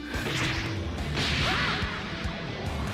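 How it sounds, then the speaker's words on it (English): A Dragon Ball fight between Gogeta and Vegito, with sustained whooshing energy and sharp smashing impacts layered over three seconds, loud and dense, without speech. "he smashed him between the energy and his foot."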